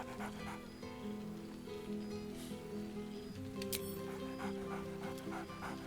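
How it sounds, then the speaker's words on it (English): Scratch the dog in the video game Baldur's Gate III pants steadily at close range, with short yips and a whimper over a low background score. "Scratch barks merrily in something like agreement."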